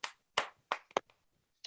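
Several hand claps, loose and uneven in timing, with a few sharp separate claps followed by a last isolated one, close and clear in a quiet room with no talking.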